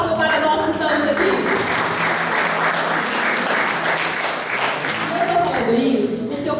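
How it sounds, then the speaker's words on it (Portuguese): Audience at a national religious family retreat breaking into a loud, dense round of applause, near and sustained throughout, with voices and music-like tones mixing in at the start and end. "uma salva de palmas para nós que estamos aqui."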